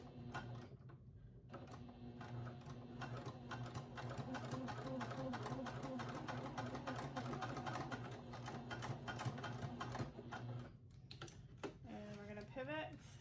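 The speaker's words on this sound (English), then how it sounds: "So I'm gonna sew back and then forward." A sewing machine runs continuously as it stitches a Book Bestie, sewing backward and then forward in a quiet, steady mechanical patter.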